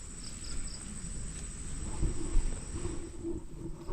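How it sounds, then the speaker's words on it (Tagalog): Crickets chirp steadily near rice fields on an afternoon, a constant high shrill trill with faint intermittent pulses, soft low rustling and background noise beneath, no talking. "Meron na pong kuliglig."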